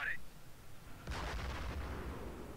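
Gunfire in the World War II strategy game Company of Heroes: a heavy, booming volley breaks in and rumbles on under a dense wash of battle noise.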